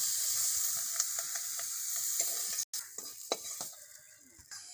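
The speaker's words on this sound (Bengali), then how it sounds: "ভাজা ভাজা করে নিয়েছে তুলে নেব" Boiled broad beans (shim) frying in a pan while being stirred, a steady sizzle broken by scraping strokes and light clinks of the spoon against the pan, with a brief gap midway.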